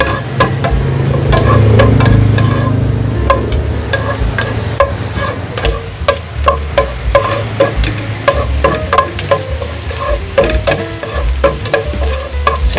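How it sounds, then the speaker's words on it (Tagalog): Garlic sautéing in hot cooking oil in a home kitchen pan, a steady loud sizzle with repeated sharp clinks and scrapes of a stirring spatula throughout, no voices. "Sote-sote yung ating bawang."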